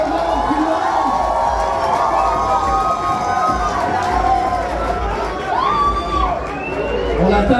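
A competition crowd cheers and shouts continuously at close range, a dense roar of voices with rising whoops, under a loud announcer's voice.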